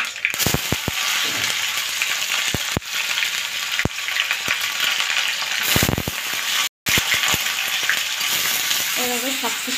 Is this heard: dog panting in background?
no